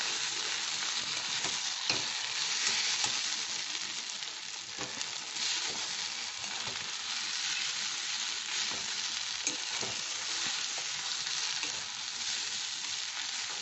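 A chili chop filling seasoned with crushed pepper and a little garam masala is mixed in a pan, giving a steady, close sizzle with soft stirring scrapes throughout.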